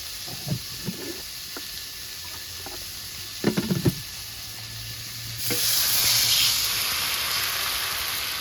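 Water poured into a hot pan while cooking a prawn curry with elephant apple gives a burst of loud hissing sizzle that swells and holds, following a few scattered stirring clinks and taps.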